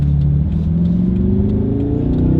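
A powerful luxury car accelerates hard with traction control flashing, the engine note climbing loud and close in a rising rev through the gears, with no talking over it.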